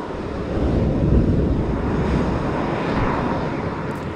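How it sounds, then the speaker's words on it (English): SpaceX Booster 9 rocket engines during engine chill give a steady, deep, low rumble and rush, like a quiet whisper of venting, holding constant for several seconds with no voices. "That was almost a quiet, deep whisper from the engines"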